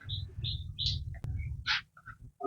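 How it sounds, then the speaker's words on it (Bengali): Several kinds of birds call at a family resort beside the Gorumara forest in the Dooars: short bright chirps and whistles come and go near and far over a low rumbling background, with no talk. "নানা রকম পাখির ডাক শুনতে শুনতে লাঞ্চ করতে কিন্তু ভালোই লাগবে।"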